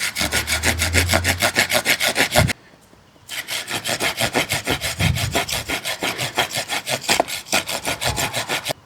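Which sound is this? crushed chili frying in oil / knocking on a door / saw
saw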